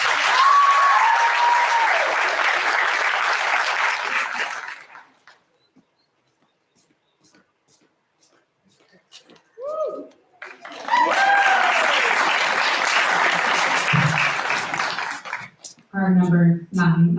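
A graduation crowd at Douglas High School applauds a graduate in a loud burst. It falls silent, and a second round of applause follows. Brief voices and a dog's yips come near the end.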